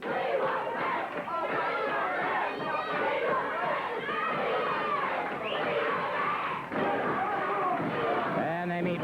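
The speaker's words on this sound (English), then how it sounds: "And you can hear the crowd picking it up." A 1979 Georgia Championship Wrestling arena crowd keeps up a dense, steady roar of chanting and shouting throughout, loud and continuous, with a commentator's voice mixed into the noise.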